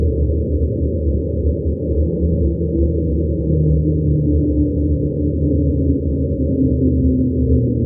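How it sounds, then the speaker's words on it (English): Slowed-down recording of an airplane flying overhead, heard as a continuous low droning rumble that holds steady and loud for the whole stretch with no voices. "Sounds like an airplane flying overhead."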